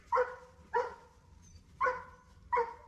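Giant Schnauzer puppies giving four short, high yipping barks, evenly spaced and close by, with quiet gaps between each yelp.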